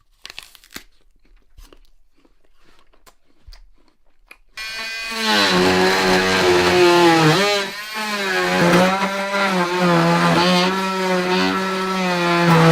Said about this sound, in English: recorded a sound where my dad was sawing